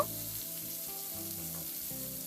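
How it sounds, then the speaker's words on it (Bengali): Pointed gourd rubbed with salt and turmeric fries in hot oil over medium flame, a continuous close sizzle broken by turning and stirring sounds, with no voices. "লবণ আর হলুদ মাখানো কাঁকরোলটা আমি তেলের মধ্যে দিয়ে দেখুন এইভাবে নাড়াচাড়া করে উল্টে পাল্টে কাঁকরোলটাকে বেশ হালকা লালচে রং ধরা পর্যন্ত এটাকে ভেজে নেব"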